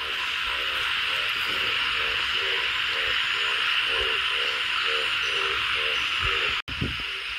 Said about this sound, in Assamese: চাওক কেনেকুৱা ভেকুলী কান্দি আছে